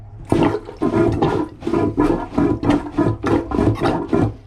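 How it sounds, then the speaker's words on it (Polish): A manual marine toilet pump on a sailing boat is worked in steady strokes, about nine loud gurgling, sucking pulls in a regular rhythm, close up with no talking. "przełącznik na czarne, czyli to jest wypompowywanie"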